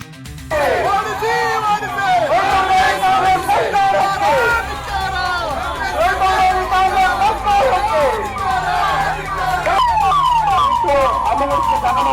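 Ambulance siren wailing loudly and repeatedly as it passes through a BJP Raita Morcha street protest, its rising and falling tone close by over crowd chatter and shouting.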